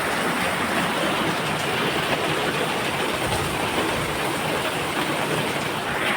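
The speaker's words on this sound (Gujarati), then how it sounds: "હવે અત્યારે વરસાદ પડી રહ્યો છે" Heavy rain pours onto an open farm field, a steady, dense, even hiss that fills the air without pause or voices.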